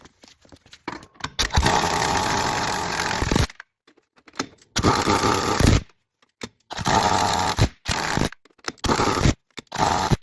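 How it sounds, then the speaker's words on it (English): An air impact gun tightens lug nuts on polished aluminum wheel rims: several loud, harsh rattling bursts of a second or two each, separated by short silent pauses. "we're gonna tighten the lug nuts up"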